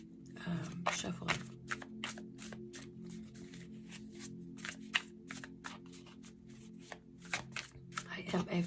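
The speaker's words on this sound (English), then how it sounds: "I guess I need to move this over a little bit so you can see more of the shuffling" Tarot cards shuffled by hand in rapid riffling bursts with soft pauses between, close and fairly quiet over a steady low hum.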